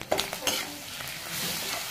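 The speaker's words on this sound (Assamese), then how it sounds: "এইখিনি অলপ ৰঙচুৱাকৈ ভাজিম।" A ginger, garlic and chili paste with roasted cumin powder fries in a pan, giving a close steady sizzle, with a few quick spoon-on-metal scrapes and clinks near the start as it is stirred.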